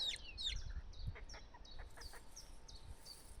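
Small chickens outdoors give a few short clucks and chirps close by, quiet and scattered over a faint background.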